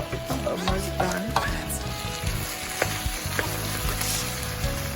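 Chicken for quesadillas frying in a pan, a steady loud sizzle and crackle with scattered utensil scrapes and stirring clinks, close by and without speech.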